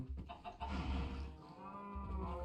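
Gas chickens in modded Minecraft's Stone Block 4 give short clucks and livestock sounds that sit close and moderately loud over a brief stretch.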